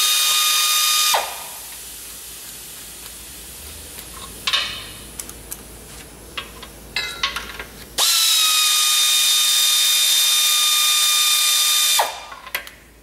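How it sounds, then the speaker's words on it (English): A pneumatic air ratchet undoes tail shaft bolts on a Holden HB car, giving two loud, close bursts of whirring rattle separated by quieter clanks and tool handling, with no talk. "Maybe I can get the air ratchet on there."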